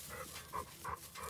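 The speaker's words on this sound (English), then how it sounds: "barking at me, Missy?" A dog gives three short, fairly soft barks or yips in quick succession indoors at home, nearby but not loud.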